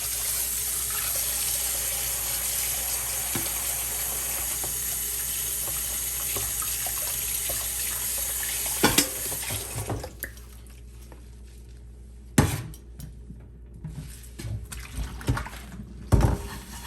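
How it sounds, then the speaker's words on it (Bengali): Cooking pots and pans washed under a running tap, with a steady rush of water for about ten seconds, then quieter scrubbing, splashing and a few sharp clanks of metal cookware. "এখন আমি আমার হাঁড়ি পাতিলগুলা ক্লিন করে আনি।"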